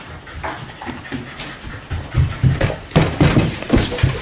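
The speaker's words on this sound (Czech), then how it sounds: "A tady je pes." A dog pants rapidly and steadily close by, breaths quickening and growing louder toward the end, with faint whimpers and a few soft thumps.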